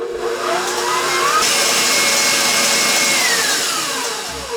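An electric mixer whips butter and cream cheese with a loud, close, steady motor whine that shifts pitch slightly as it runs, then cuts off at the end.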